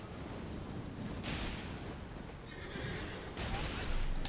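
A horse neighs loudly in a video game, a long whinny against a dense, rumbling game soundscape with bursts of noise, close and continuous.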